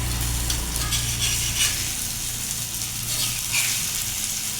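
Paneer pieces frying in a pan for an Indian-style burger, giving a loud, steady, close sizzle that holds throughout with faint stirring.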